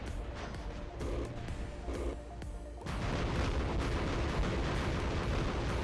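Robot weapons firing in the mech combat game War Robots: heavy booming shots and blasts, a few separate thuds early, then a continuous loud barrage of explosive fire.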